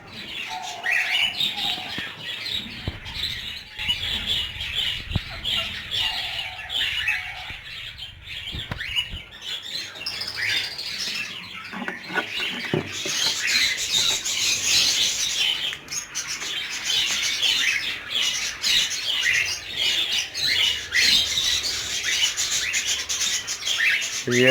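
Ringneck parakeets in an aviary with breeding pairs give bursts of chirps and squawky calls, some close and loud, with rustling and wing movement in between, busy and overlapping throughout.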